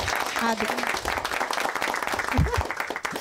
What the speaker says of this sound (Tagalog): O, pumalakpak yung kaya.